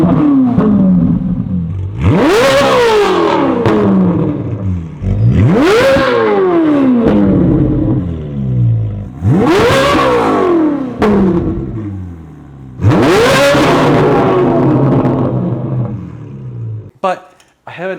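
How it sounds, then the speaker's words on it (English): Ferrari 458 fitted with a titanium Top Speed exhaust revs hard four times in a row, each loud rise to a high scream dropping away, with a short idle gap between blips. "what does this exhaust sound like?"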